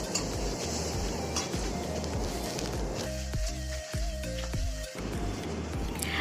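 Garlic paste and spices stirred in a pan for fried cabbage, with a utensil clinking and scraping against the pan in steady strokes over a continuous sizzle, no voices.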